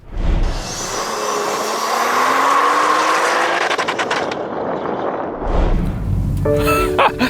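A BMW M240i roars loud and close through a launch control run, the engine note rising steadily as the car struggles to shift, then cutting to a rough, stuttering burble with harsh popping near the end.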